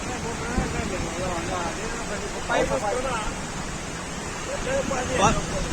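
Water from the Bhima river at Pargaon rushes loudly through a breached weir, a continuous close roar of churning flow with voices talking over it.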